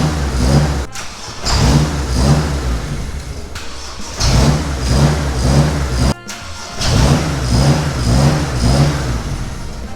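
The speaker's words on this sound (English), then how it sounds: "Why was the engine idling like that?" BMW E30 fitted with an N54 engine, idling roughly after starting, loud and close, with a steady uneven rumble broken by brief dropouts and surges as it runs poorly.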